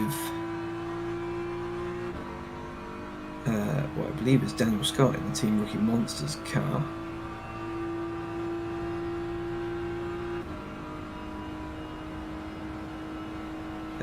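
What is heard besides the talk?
onboard race car engine at Daytona, rFactor 2 video game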